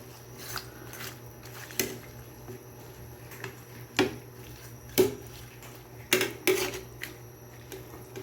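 Iodized salt is stirred in a pot, producing faint, scattered scraping and clinking of a utensil against the pot at irregular intervals over a low steady background.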